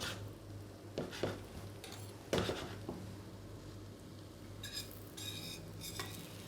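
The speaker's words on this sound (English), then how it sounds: "because we're pan frying this in butter" Batter-coated brie pan fries in butter with a faint, steady sizzle, broken by a few light scrapes and clinks of a utensil against the pan.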